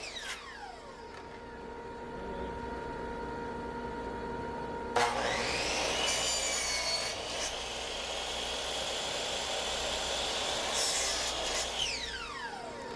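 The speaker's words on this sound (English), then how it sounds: "And while I'm at the miter saw, I'm cutting the outer rail pieces as well." A miter saw spins up and cuts wooden rail pieces for a game table, a loud whining motor that drops into a rough, sustained cutting roar and then winds down, heard close with no talk.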